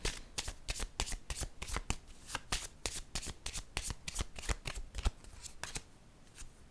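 Tarot cards are shuffled and laid down in a fast, crisp series of riffling slaps and snaps, close and fairly quiet, with no speech.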